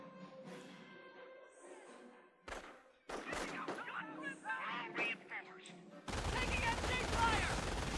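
Machine-gun fire from an MG42 in Company of Heroes, a World War II strategy game, comes as scattered bursts and thuds mixed with other battle noise, ending in a loud, dense stretch of fire, with voices heard throughout.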